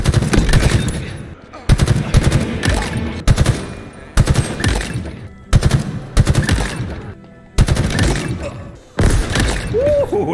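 Rapid automatic gunfire bursts from the video game Tactical Ops, loud, close and repeated in several sharp volleys with brief gaps between them, with no talk over the shooting.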